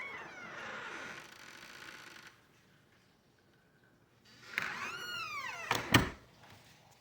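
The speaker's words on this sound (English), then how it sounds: "trying to capture Buddy's pre-hunting meows" A cat meows in a few drawn-out, rising and falling calls near the end, after a stretch of rustling and quiet room noise, with a sharp knock among them.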